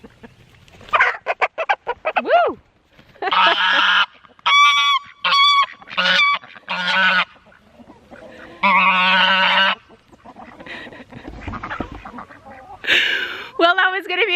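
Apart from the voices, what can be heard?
poultry sounds, chickens clucking and a goose honking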